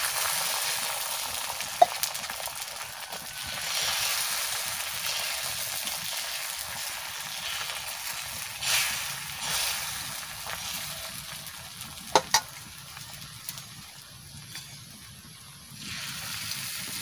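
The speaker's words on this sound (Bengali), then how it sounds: "ডিমটা ভেজে নিচ্ছি।" An egg fries in oil in a pan for chicken Mughlai with a continuous broadband sizzle, close and fairly loud, broken by a few sharp clicks of a utensil.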